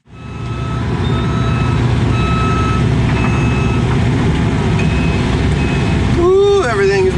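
Heavy earthmoving machines warming up on a cold morning at a land-grading site, a loud steady diesel rumble with intermittent high reversing beeps, then a rising whine of hydraulics near the end.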